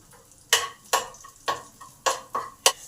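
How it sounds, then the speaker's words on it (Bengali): Cumin, ginger and dried chilli fry in a pan while a utensil stirs and scrapes them in six sharp, evenly spaced strokes. A faint sizzle runs underneath. "এই জিরে আর আদাটাকে একটু ভালো করে ভেজে নেবো।"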